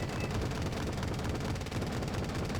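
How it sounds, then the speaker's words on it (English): Puma vehicles open fire in the Wargame strategy game, a dense, continuous rattle of gunfire and blasts packed tightly together and held at steady, loud intensity without pause. "You see the Pumas firing"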